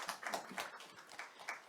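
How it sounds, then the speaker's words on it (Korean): An audience at a teachers' forum claps after a lecture, a thin scatter of hand claps at moderate distance, fairly quiet with no voices over it. "멋진 강의해 주신 정기섭 박사님께 다시 한 번 더 큰 박수 부탁드립니다"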